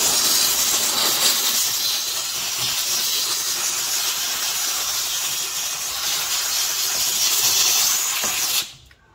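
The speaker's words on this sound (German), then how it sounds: "Also wie gesagt, mit dem Dampfreiniger drüber." Steam cleaner hissing steadily over the interior of a VW T5 van during a detailing job, a loud continuous airy spray that runs unbroken for several seconds before cutting off abruptly near the end.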